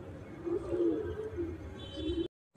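Pigeons settled on a perch and a lamp top during a pigeon-flying contest coo in a low, rolling rhythm. The sound is close and steady, then cuts off abruptly near the end.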